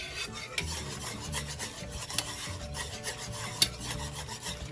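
Spoon scraping and rubbing through gnocchi with a spinach mixture in a pan, a soft continuous rasping stir with a couple of sharper clinks, close and quiet with no talking.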